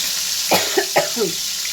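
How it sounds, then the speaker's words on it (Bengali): Hilsa fish head frying in hot oil, a steady sizzling hiss with a few brief louder crackles and spatters, close and fairly loud throughout. "মুড়োটা একটু ভাজা হোক"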